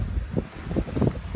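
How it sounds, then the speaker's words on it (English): Strong gusting wind buffets the microphone outdoors on a stormy brewing day, a loud low rumbling roar that surges and dips over a short stretch. "It is so windy"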